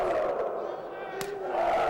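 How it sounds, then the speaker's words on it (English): A single sharp slap of a wrestler's chop lands once near the middle, a crisp broadband crack cutting through a roaring Los Angeles wrestling crowd that swells again afterward. "Nosawa, oh, listen to his chop."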